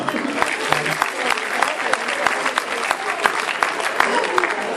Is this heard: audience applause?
yes